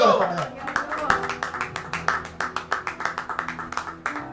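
A church congregation claps in a rhythmic, evenly spaced beat, sharp distinct claps continuing steadily after a brief spoken prompt, with voices briefly heard at the start.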